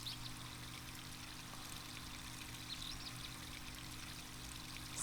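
Stagnant water draining in the Another Code: Recollection video game: a steady, faint pouring and trickling stream with a low hum beneath, continuous throughout.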